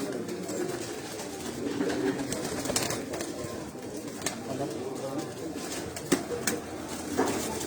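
Flying pigeons in a cage coo softly in a low, continuous murmur, with occasional sharp clacks and flutters breaking through.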